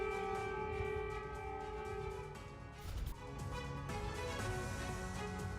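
A civil defense air raid siren wails over a city in Ukraine, a loud, steady, sustained tone that dips briefly before swelling again, with no speech over it.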